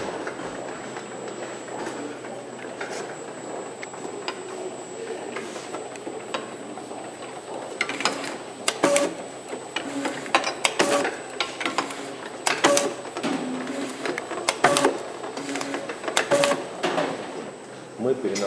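An automatic labeling line fitted with two Aura 500 label applicators and a top roller, running 100 ml wine and vodka bottles. It gives a continuous mechanical hum with rapid rhythmic clicks and clatters growing busier midway, while someone talks over it.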